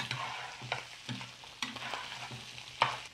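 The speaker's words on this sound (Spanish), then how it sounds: "Y aquí le voy a poner la cebolla y el ajo para que dore con la carne." Onion and garlic fry and brown in a pan with pork ribs, a quiet close sizzle broken by repeated spoon scrapes and clacks in an uneven rhythm.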